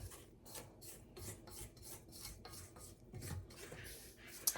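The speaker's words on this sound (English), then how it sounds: "I'm going to turn this off and kind of get that dough scraped together." Sopapilla dough of flour and yeast mixture is scraped together in a bowl, a quiet rasping scrape repeated in a steady rhythm of about ten strokes, close and alone.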